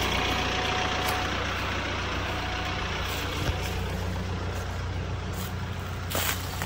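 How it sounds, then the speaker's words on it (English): Tractor engine straining to pull a stuck vehicle out of the dirt on a deer farm, a loud, steady engine drone with faint clanks, and no voices. "So I need Dad to pull me out with a tractor."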